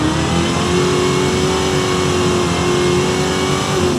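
A racing car engine in Forza Horizon 5 screams at high, nearly steady revs, loud and close, with only a slight dip and rise in pitch throughout.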